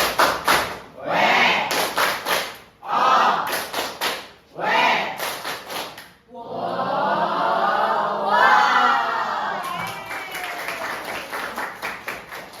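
A classroom of students claps in a rhythmic chant pattern: several short bursts of group claps with brief pauses between them, then a longer sustained round of clapping and cheering that fades to scattered claps at the end.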